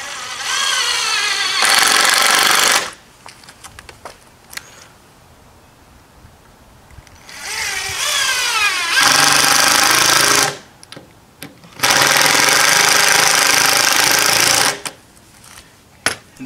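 A power drill countersinking bolts and screws into the wood of a garden arbor, heard as several loud, sustained whirring bursts of a few seconds each, separated by quieter pauses.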